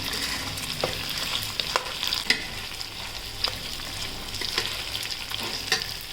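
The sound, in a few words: frying dal, fennel seeds and sesame in oil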